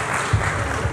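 Audience at a seminar event in Raipur applauds in a brief, dense burst of clapping, close and steady.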